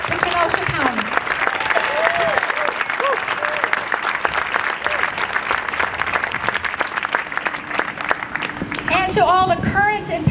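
Loud, sustained applause from a crowd at a county courthouse centennial honoring retiring Kenosha County officials, with voices and whoops rising through the clapping toward the end.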